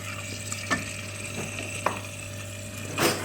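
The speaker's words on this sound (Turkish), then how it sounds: "arkadaşlar etimizi kavuruyoruz" Meat being sautéed in a pot for a Turkish dried okra stew with chickpeas produces a continuous sizzle, broken by a few sharp utensil clinks and scrapes, close and fairly loud with no talking.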